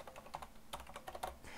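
Computer keyboard typing heard alone, a quick run of close, crisp key taps in an uneven rhythm.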